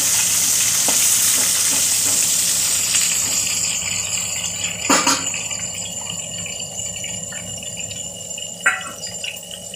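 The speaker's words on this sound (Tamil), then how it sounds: "இதை ஃப்ரை பண்ணி எடுத்துடலாம்" Brinjal pieces fry in hot oil, a steady close crackling sizzle with a few louder pops and scraping clinks from stirring.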